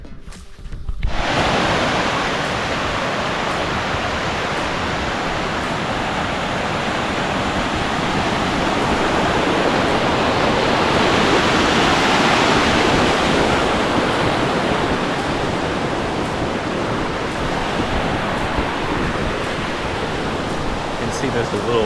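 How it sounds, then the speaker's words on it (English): A small mountain creek rushes along a trail on the way to the Dome and Knoya Peak, a loud, steady broadband wash of flowing water that fills the whole stretch after a brief quiet start. "there's a little stream that kind of, maybe it's a creek that goes by the side up here"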